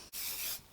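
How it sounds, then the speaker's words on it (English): Hairspray hisses from an aerosol can onto hair in one steady spray burst of about half a second, close and fairly loud, following a brief pause. "I'm gonna put on some hairspray"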